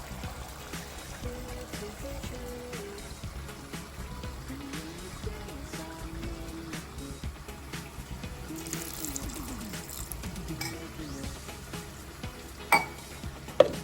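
Mutton keema sizzles and crackles steadily in a pan throughout, with occasional stirring scrapes and a couple of sharp knocks near the end.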